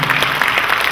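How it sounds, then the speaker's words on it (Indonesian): A church congregation applauds during a sermon, a dense steady wash of clapping from many hands filling the short moment with no voices over it. "Ya setuju berikan tepuk tangan yang berikan."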